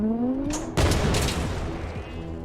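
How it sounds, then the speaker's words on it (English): A loud, sudden boom erupts inside a Werewolf Wizard pinball video game, bursting in after a rising electronic tone and rumbling on with a long, noisy decay. "There was an explosion."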